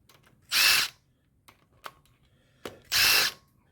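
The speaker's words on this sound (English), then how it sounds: "I'm zipping the bolts back, but I'm not taking them out yet" A power tool zips connecting rod bolts loose on an LS engine teardown: two loud, close whirring bursts a couple of seconds apart, with faint metallic clicks between them.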